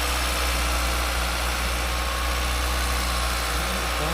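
A seventh-generation Toyota Celica engine idles while its radiator fan runs, a steady low drone mixed with broad whooshing air noise, close and unchanging throughout.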